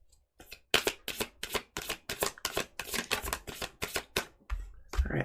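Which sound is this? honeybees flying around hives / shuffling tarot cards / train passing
shuffling tarot cards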